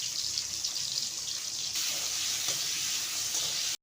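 Tomatoes hit hot oil tempered with panch phoron for a tilapia posto curry, giving a steady, close, hissing sizzle that runs unbroken and alone before cutting off abruptly.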